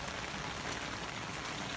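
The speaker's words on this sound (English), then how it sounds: "this is just a normal rainstorm" A brief stretch of an ordinary rainstorm: steady, even hiss of water falling and running, moderately loud with no pauses or voices.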